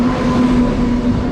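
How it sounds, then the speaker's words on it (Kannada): An express train passes close by in a loud, steady rumble with a sustained droning hum, heard alone without voices. "train ಬರ್ತನೆ guys train ಬರ್ತನೆ"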